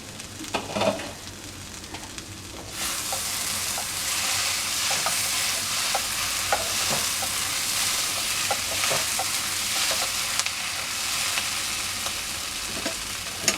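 Potatoes and capsicum cook in a pan over a medium flame with a steady, close sizzle and frying hiss, plus occasional stirring clinks; the sizzle starts up loud after a short quieter lead-in and continues without talk.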